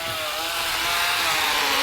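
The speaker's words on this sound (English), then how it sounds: "the glamping method, electric chainsaw." A battery-powered electric chainsaw cuts wood outdoors at a campsite, giving a loud, steady motor whine with a faint rising tone that holds without a break for about two seconds.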